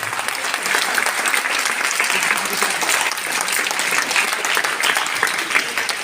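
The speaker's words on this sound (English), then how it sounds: "Please give a round of applause." Steady round of applause from an audience at a South Asia karate championship held in a judo hall, dense continuous clapping filling the hall at an even level throughout.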